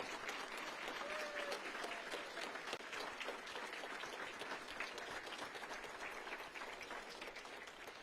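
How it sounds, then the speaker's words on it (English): Steady applause from a large audience at a governor's awards ceremony, dense continuous clapping that holds at an even level for several seconds with no voices standing out. "a nice round of applause for our Team of the Year honorees"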